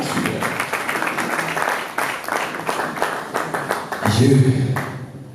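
Applause and cheering from a crowd at a live music show, a dense, steady wash of clapping that swells louder near the end.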